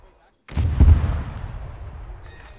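A rocket hits its target in the video game ArmA 3, a sudden loud blast after a brief silence, followed by a rumbling roar that slowly decays.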